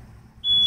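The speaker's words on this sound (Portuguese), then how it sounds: "Quando der o 29, ele apita." A tire inflator gives a single steady high-pitched electronic beep as it reaches its target pressure of 29 on a car tire. The tone starts abruptly after a brief quiet rumble and holds loud to the end, with no talk.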